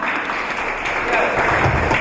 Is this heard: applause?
yes